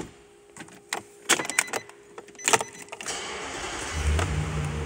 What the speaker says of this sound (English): So now I just started the truck.